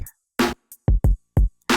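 A sparse drum pattern of punchy kick and snare hits with a thick, saturated, slightly compressed tone from tape saturation in Reason's Umpf Retro Beats, played alone with short gaps between hits.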